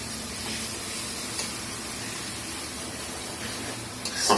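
Garlic paste sizzles steadily in a pan of already fried onions for a dried fish curry, a continuous soft hiss with faint stirring scrapes, no voices.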